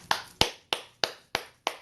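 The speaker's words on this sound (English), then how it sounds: "I'm clapping for myself" One person claps for herself: six sharp, evenly spaced claps in a steady rhythm, close and fairly loud, with nothing else around them.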